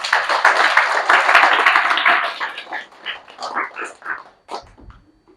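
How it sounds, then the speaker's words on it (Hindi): Audience clapping at a Brahma Kumaris summer camp talk, a dense burst of claps that fades after about three seconds into a few scattered claps and murmurs, then a brief low thump. "तो अपने लिए एक बार जरूर ताली बजाएंगे।"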